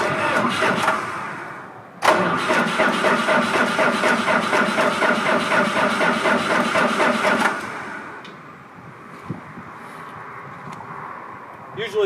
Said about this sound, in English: This machine runs off of a Cummins 4BT engine. It is very reliable, but it is so loud it will just deafen you.